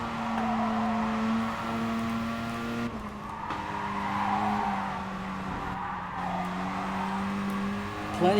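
Race car in Gran Turismo Sport spins through a 360, its engine droning steadily while tires squeal and skid with a long continuous screech, loud and close, the pitch sagging as it rotates.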